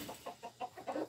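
A brooding hen with chicks gives a run of about six soft, low clucks in a steady rhythm, close by and moderately quiet, with no talking.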